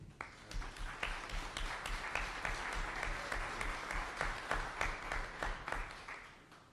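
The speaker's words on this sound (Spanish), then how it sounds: "Démosle un fuerte aplauso de bienvenida." Sustained welcoming applause from a conference panel audience, dense steady clapping that holds for several seconds before tapering slightly at the end.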